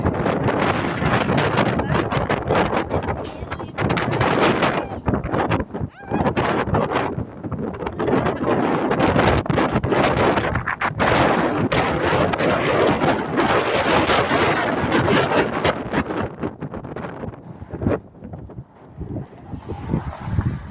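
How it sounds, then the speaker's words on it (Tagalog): Strong wind roars and batters the microphone outdoors continuously for a long stretch, blowing leaves and soil, gusting loud with brief dips near the end. "At ang lakas ng hangin sobra."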